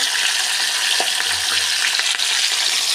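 Curry leaves and onions hit hot oil, producing a loud, dense, continuous sizzle close up, with faint stirring and no voices.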